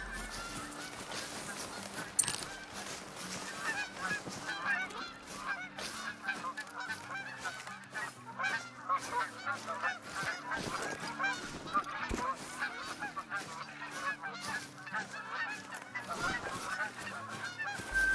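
Geese honking in a hunting game, a dense flock calling continuously, many overlapping honks at moderate distance for the whole stretch, with no talk.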